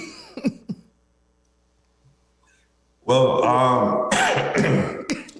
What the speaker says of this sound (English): sorry, to clear my throat